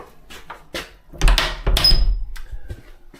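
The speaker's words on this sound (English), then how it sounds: "I think I better shut the front door" A front door is swung and shut with a heavy thud and rattle after a few lighter knocks and handling clicks, close and indoors, with no speech.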